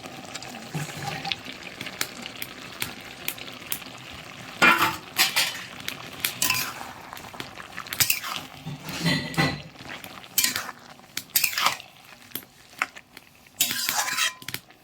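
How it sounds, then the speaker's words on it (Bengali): Fried eggs are poured into a pan of watery curry made with tomato and green mango. Wet splashes and sizzling come with repeated clinks and scrapes of a utensil against the pan, all close and irregular. "এখন আমি ওই ভাজা ডিমগুলো ঢেলে দেবো"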